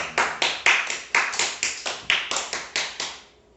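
Church congregation clapping in unison during Sunday worship, about a dozen evenly spaced sharp claps in a steady rhythm that stop abruptly at the end.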